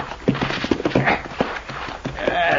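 Horses' hooves clip-clop at an uneven walking pace on hard ground, fairly close, with shuffling and a rising background rumble toward the end, in an old Western setting.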